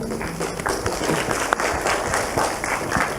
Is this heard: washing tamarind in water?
no